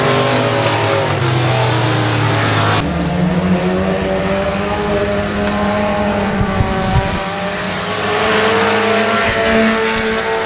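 Four-cylinder race cars in a heat race at Boothill Speedway roar around the track, loud droning engines rising and falling in pitch as cars pass close, with a sudden shift in engine tone partway through.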